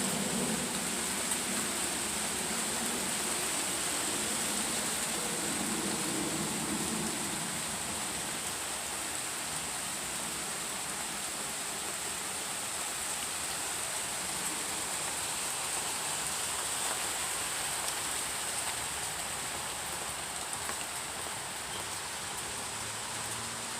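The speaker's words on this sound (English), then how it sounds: "So we have more rain." Steady rain falls outdoors, a dense, even hiss that holds at the same level throughout with no talking.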